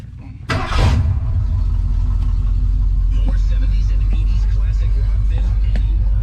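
A 1962 Chevrolet C10 pickup truck engine fires up with a loud burst, then settles into a steady, close, rumbling idle that holds through to the end.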